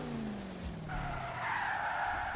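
Tires skid and squeal as a Chevrolet Nova drifts downhill in Forza Horizon 3, a steady drawn-out screech with a falling engine tone beneath it, fairly quiet and continuous, and no one speaking.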